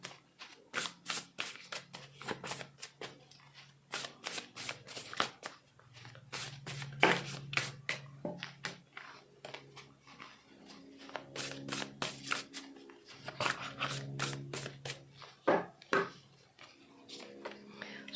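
A Divine Abundance oracle card deck is shuffled by hand in quick bursts of crisp riffling and slapping cards, close and soft, with pauses between rounds and occasional quiet talk.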